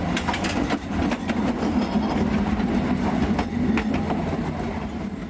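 A passenger train runs along European rails with a steady, continuous rumble and rhythmic clickety-clack, heard from on board, loud and close throughout with no voices.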